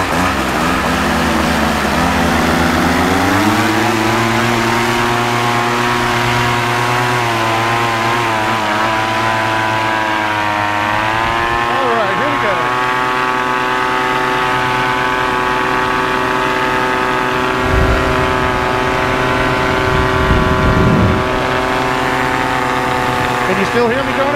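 A paramotor engine and propeller run at full throttle during a tandem flight: a loud, steady, buzzing drone with a strong harmonic whine that holds for the whole stretch, shifting slightly in pitch, with voices breaking through now and then.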